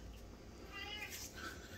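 A house cat meows once or twice nearby, short and fairly faint, over a quiet kitchen background.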